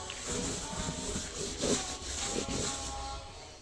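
Chairs scrubbed by hand with Harpic toilet cleaner, a steady rough rubbing and scraping with a few stronger strokes, close and continuous.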